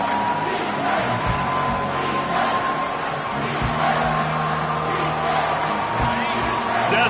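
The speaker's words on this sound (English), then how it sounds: "Decibels rising as the crowd gets behind this defense on third down" Loud, steady roar of a football stadium crowd rallying behind the defense on third down, a dense wash of cheering and yelling with whoops that swells and holds throughout.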